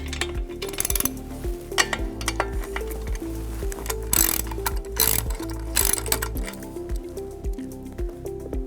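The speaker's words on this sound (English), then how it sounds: "Use your 15mm wrenches." Ratcheting 15mm wrenches work the front wheel nuts of a Juiced bolt-on e-bike wheel, giving repeated close clicks and metallic clinks in a steady rhythm, with no talk over them.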